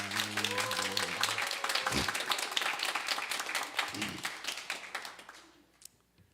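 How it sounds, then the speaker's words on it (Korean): Applause in a church service for the choir and a substitute accompanist, dense and sustained clapping from the congregation that fades out toward the end, with some voices mixed in. "우리 찬양대 우리 또 대체 반주자 박수로 한번 격려하겠습니다"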